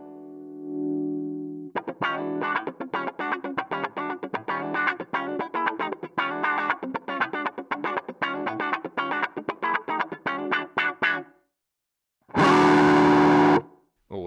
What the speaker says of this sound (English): Let's just hear some presets from this thing.